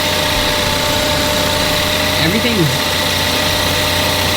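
An idling car engine with 80,000 miles and a suspected belt noise runs in a steady, loud drone with a faint high whine riding on top, and a brief spoken word passes over it.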